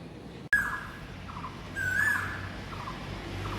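An Asian koel calls on a rainy morning among green surroundings, short bird notes repeating at a moderate distance over a steady outdoor background hum, after a sharp click at the start.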